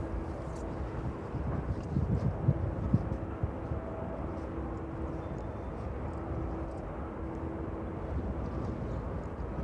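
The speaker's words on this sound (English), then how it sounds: "let's take a round back across that DHL aircraft, that 777 just arriving in from Cincinnati there" A DHL Boeing 777 arriving from Cincinnati at East Midlands Airport, a steady distant jet roar with some wind noise, continuous and fairly even in level.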